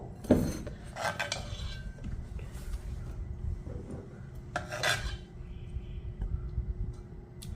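Horse gram chutney scraped and transferred from a grinder jar into a bowl, giving close metallic clinks and scraping rasps of a spoon against steel, irregular and fairly quiet with no talk.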